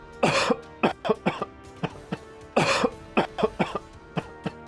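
Two bursts of harsh, repeated coughing, each a loud cough followed by several shorter hacking coughs, close and with no talking.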